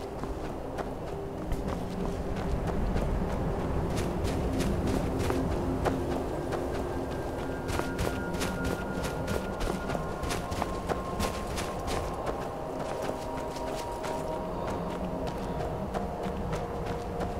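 Horse hooves clip-clopping in the video game Skyrim, a long run of repeated hoof strikes with a steady rhythm over a soft ambient game background and faint tonal music.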